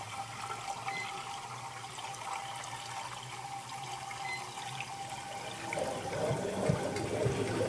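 Water is poured into a 6-liter gelato can on an ice cream machine, making a steady, faint splashing trickle with no talk over it.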